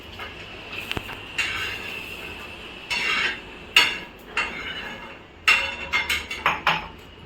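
Chopped ingredients for a raw mango thecha are scraped and dropped into a mortar (khalbatta), with scattered clinks, scrapes and taps of utensils against the vessel coming in irregular bursts.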